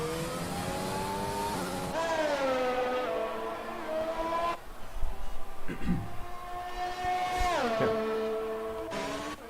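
Race cars in an F1 2020 video game qualifying session at the Mexican GP, engines whining loud and high as they rev up and shift through gears, with a commentator's voice running underneath.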